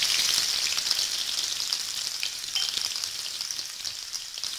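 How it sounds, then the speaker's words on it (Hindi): Fenugreek, green chili and garlic sauté in hot oil over a medium flame, giving a steady, bright, close sizzle that eases slightly toward the end. "अब मीडियम फ्लेम पर इसे हम कुछ सेकंड के लिए सौते कर लेंगे"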